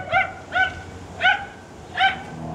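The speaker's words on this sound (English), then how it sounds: "Is that another loose dog?" A loose dog somewhere outside barks four times at an even pace, each bark clear but moderately distant against a low background hum.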